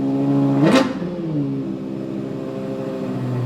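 A Lexus LFA's Yamaha co-developed V10 flares up sharply in a single quick rev that rises and falls, then settles back to a steady idle hum.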